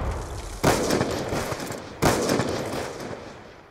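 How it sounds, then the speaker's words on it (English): Two sharp grenade blasts in a Predator video game, about a second and a half apart, each a loud sudden burst decaying into a rumbling tail. "Watch the grenade."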